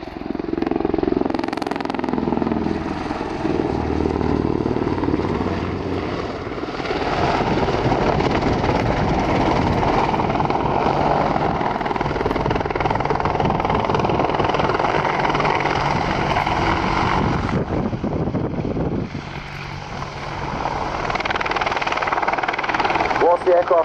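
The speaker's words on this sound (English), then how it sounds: "the Apache is now completing a 360-degree wing over and is positioning into the" An Apache attack helicopter manoeuvres and settles into a hover at an airshow, its heavy rotor thump and turbine roar loud and continuous, briefly dipping before swelling again, with a commentator talking over it.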